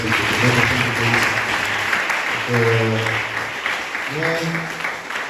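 Church congregation applauding the Lord, a steady wash of clapping throughout with singing voices rising over it in a few sustained phrases.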